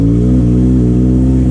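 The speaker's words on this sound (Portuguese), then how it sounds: "Fazendo aí uma vidinha de moto, uma XJ6, 600 cilindrada" A Yamaha XJ6 600cc motorcycle engine hums loud and steady while riding through the countryside of interior São Paulo, a constant close drone with strong low tones and wind, no talking.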